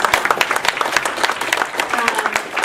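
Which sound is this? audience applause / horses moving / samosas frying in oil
audience applause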